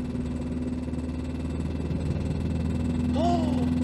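A high-mileage first-generation Renault Twingo engine runs with a suspected worn bearing, a steady low droning hum with a rough undertone, close by, with a brief squeaky tonal sound near the end.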